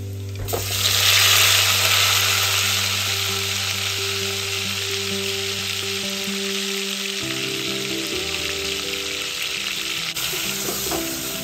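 Garlic and tomato hit hot oil in a pan for a bottle gourd and potato dish, bursting into a loud sizzle that settles into a steady hiss, with a low hum beneath.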